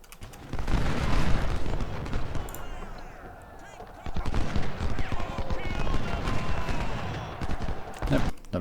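Cannon fire and musket volleys from the Civil War strategy game Ultimate General: Civil War, with rumbling booms and crackling gunfire bursting in two loud waves, separated by a brief quieter lull.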